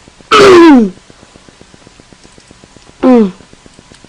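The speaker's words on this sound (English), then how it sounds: "Clear my throat, sorry guys." Two separate throat-clearing sounds, the first longer and the second a short, sharp repeat a couple of seconds later, close to the microphone against a quiet background with faint ticking.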